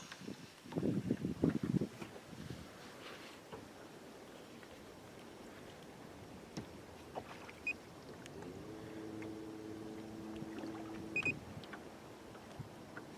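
A trolling motor hums steadily on a fishing boat out catfishing in New Mexico, a low even drone over faint water sounds, with a louder burst of splashing near the start.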